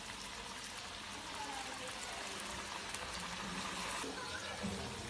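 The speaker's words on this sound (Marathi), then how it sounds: "आता त्याच्यात अलगद आपल्याला एक एक कचोरी सोडायची आहे" Potato kachori for a fasting meal deep-fry in hot oil, giving a steady, dense hiss and crackle of sizzling that runs throughout at a low, even level.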